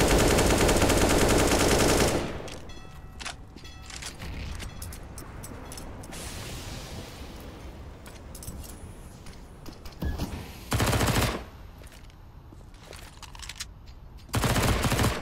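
AK-47 and SMG fire during a Counter-Strike esports match, with loud sustained rattling bursts at the start and near the end and scattered shots and game noise in between.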